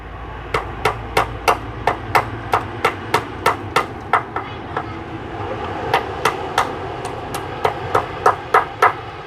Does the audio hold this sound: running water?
no